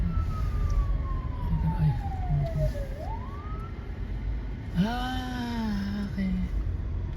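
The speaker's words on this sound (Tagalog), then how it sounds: "Ito may ambulansya." An ambulance siren wails on a city street, sweeping downward and then rising again in a second wail, heard over steady traffic and road noise while a voice briefly exclaims.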